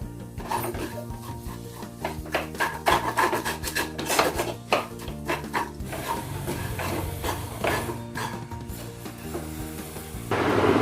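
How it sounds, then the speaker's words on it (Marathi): Spoon scraping and stirring soaked chana dal as it roasts in a pan over medium heat, steady gritty rasping and clicking strokes close up. "छान चमच्याने हलवून छान भाजून घेतलेला आहे"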